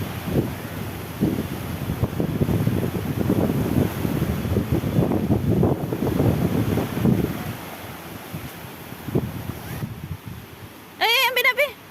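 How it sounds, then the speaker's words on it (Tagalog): Strong wind buffets the microphone on a Davao beach, a loud continuous roar with gusty surges, while people talk under it and a brief high squeal sounds near the end. "Sobrang hangin."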